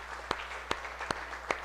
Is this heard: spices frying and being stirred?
no